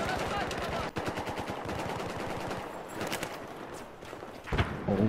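Rapid automatic gunfire in Battlefield 4 team deathmatch on Lancang Dam, sustained bursts of evenly spaced shots with a brief break near the start and a few heavier cracks later, a player talking in places.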